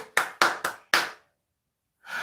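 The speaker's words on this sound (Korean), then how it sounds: "박수, 박수, 박수." Four quick bursts of hand clapping ring out close and crisp, then a pause of silence before another clap begins.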